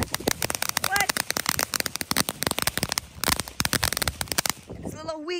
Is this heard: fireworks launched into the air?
yes